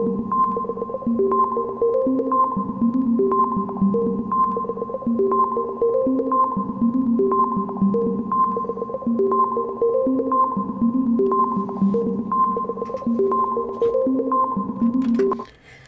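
A looping electronic music pattern programmed in ChucK, built from clean, tone-like synth notes stepping through a repeating sequence of pitches at a steady rhythm, with no voices.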